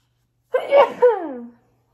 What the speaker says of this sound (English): I need to sneeze, excuse me.